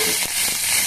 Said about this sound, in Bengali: ফোড়ন দিলাম, আর একটু কাঁচা লঙ্কা দেবো